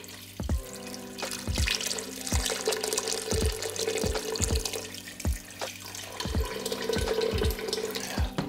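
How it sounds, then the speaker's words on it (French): Tap water pours steadily into a cooking pot to make pho broth, with a continuous splashing flow and scattered sharp clinks of the pot or utensils throughout. "on va maintenant rajouter l'eau par-dessus"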